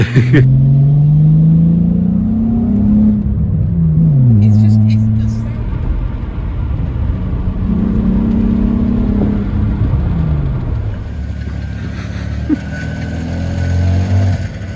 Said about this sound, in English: There's a slight exhaust blow, I think, just a tad.